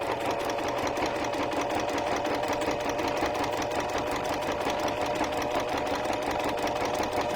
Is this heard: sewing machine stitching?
yes